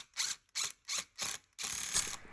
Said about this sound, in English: I'm going to drive some nice good sized screws in here and see if I can reinforce it